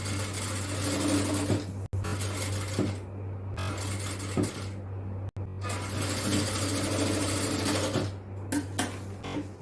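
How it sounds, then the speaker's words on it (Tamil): A sewing machine stitches a frill onto a nighty, its motor whirring close and steady for nearly ten seconds, broken by two brief pauses and easing into short stop-start bursts at the end. "அதுல நம்ம இப்போ ஃப்ரில்லு தைக்கலாம்"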